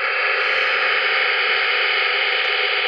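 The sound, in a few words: digital hiss of a DRM radio signal on shortwave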